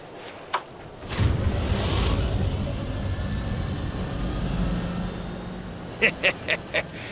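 An airplane engine in Final Fantasy 7 Rebirth starts up and builds to a steady, roaring drone, followed by a few short rhythmic thumps near the end.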